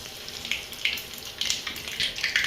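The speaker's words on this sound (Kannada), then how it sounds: "ಈಗ ಈ ಎಣ್ಣೆಯಲ್ಲಿ ಫಸ್ಟು ಸಾಸಿವೆ ಸಿಡಿಸ್ಕೊಳ್ಳೋದು" Mustard seeds splutter and pop in hot oil for puliyogare gojju, a steady sizzle broken by bright, irregular crackling bursts, with no talking.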